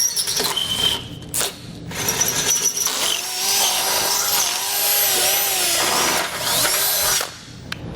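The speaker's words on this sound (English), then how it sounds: "we're going to use that same method by stepping up our drill bits until we reach that size" A power drill whirs in several bursts, revving up and bogging down as it enlarges a pilot hole with stepped-up bits in a 2011 Ford Fusion, with short pauses between runs.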